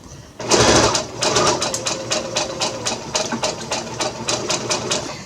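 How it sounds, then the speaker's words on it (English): A sewing machine stitches fabric for a simple hot/cold pack, starting abruptly with a loud whir and settling into a rapid, even needle clatter that runs close and steady to the end. "So we're going to start sewing."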